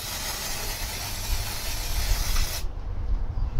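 Gunk degreaser sprayed from an aerosol can while working on a Mondeo tensioner: a loud, steady hiss that runs for about two and a half seconds, then cuts off, leaving a low background rumble.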